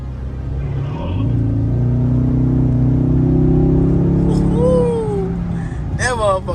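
A Dodge 392 V8 rumbles steadily while driving, its deep drone swelling and then easing back, loud and close, with a voice speaking over it near the end.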